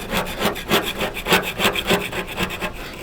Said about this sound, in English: first I just start off with scraping as much off as I can